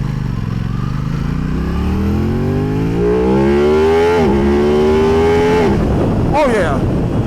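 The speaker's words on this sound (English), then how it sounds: "The first thing I got to do is give it some nice revs." A brand-new stock motorcycle engine revving hard and close, its pitch climbing in repeated sweeping runs and dropping back between throttle blips, loud throughout with a steady mechanical drone underneath.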